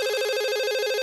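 Cartoon telephone ringing with a rapid, continuous electronic trill, bright and loud, filling the whole moment with no voices over it.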